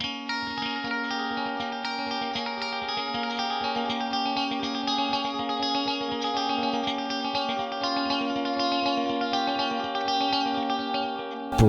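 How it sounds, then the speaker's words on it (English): Guitar through a Pigtronix Echolution 3 delay pedal, its repeats wobbling under fast modulation, a sustained shimmering wash of notes over a quick strummed pulse at a fairly quiet, even level, with no talking. "Got modulation, and the modulation is actually quite fast. You can kind of hear it wobbling."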